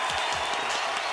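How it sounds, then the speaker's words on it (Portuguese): A studio audience on a Brazilian talk show breaks into applause, a steady, dense wash of clapping that fills the whole short moment at close, even loudness. "Aplausos pra ele."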